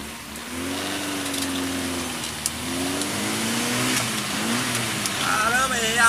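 A Ford Fiesta engine revs as the driver misses a gear shift, the pitch rising and falling unevenly under steady road noise while people talk over it.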